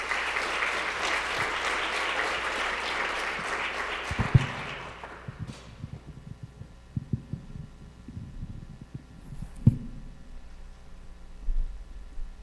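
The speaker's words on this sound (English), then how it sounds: "let's give them a round of applause and welcome them" Warm audience applause welcoming performers at a Syria benefit concert, dense clapping for about four seconds that fades into scattered thumps and quiet room noise.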